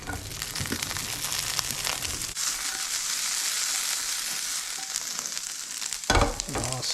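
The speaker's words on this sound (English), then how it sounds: "first we're actually gonna start off with browning some garlic" Garlic browns in a hot pan, sizzling and frying loudly at close range while it is stirred, with scraping and clatter over the steady hiss.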